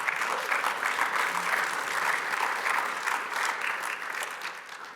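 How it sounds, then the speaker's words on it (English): A room of attendees at a conference gives a round of applause, dense, even clapping at moderate loudness that carries steadily throughout without talk. "Let's give a big round of applause for these guys in advance."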